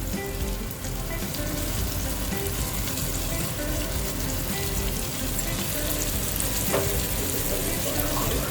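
A paste of coriander, garlic and ginger fries in a pot for mutton butter handi, a dense, constant close sizzle like heavy rain with faint stirring.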